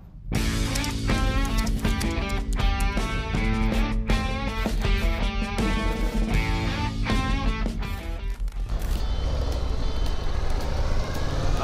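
A Harley-Davidson Road Glide CVO motorcycle on the road: a loud, continuous engine drone with shifting tones throughout, changing to a rougher, noisier roar near the end.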